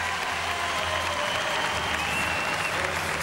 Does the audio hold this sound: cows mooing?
no